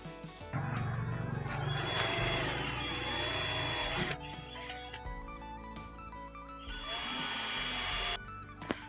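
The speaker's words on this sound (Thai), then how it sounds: "เดี๋ยวเราไปเจาะรูยึดน็อตกันนะครับ" A power drill bores a hole in a car body to bolt on a dash camera, running in long whining bursts with pauses between them, fairly quiet and close.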